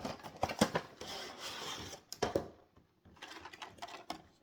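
A blade slices open a cardboard package of Hot Wheels cars, quiet scraping and tearing strokes in short bursts with brief pauses, close and faint.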